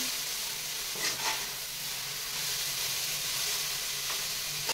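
Cabbage sautéed in a hot pan for cheese noodles, a dense continuous hissing sizzle close by, with a couple of brief spatula stirs and no talking.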